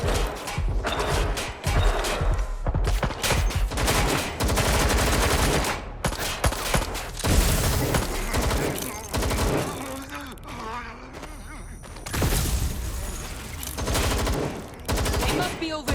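Dense, continuous gunfire in the video game Watch Dogs Legion, with rapid automatic bursts and loud cracks filling the stretch amid crashes and shouts.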